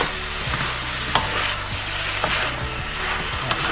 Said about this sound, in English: And we are going to add our upo, or the bottle gourd. Just mix it.